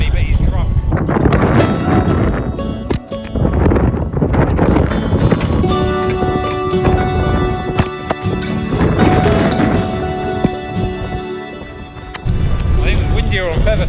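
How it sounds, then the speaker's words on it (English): Strong wind gusts buffet the microphone on the high moor of Dartmoor, a loud, continuous rumbling roar with irregular surges and thuds throughout, while a person talks over it. "it is so windy up here today"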